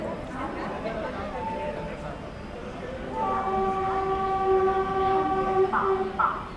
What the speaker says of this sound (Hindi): फाइनली हम लोग जलगांव पहुंच गए। प्लेटफॉर्म नंबर 3 पे अपना अराइवल हुआ है।